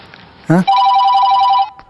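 A lost mobile phone rings with a loud electronic ringtone, steady repeating tones lasting about a second after a brief voice, then cutting off.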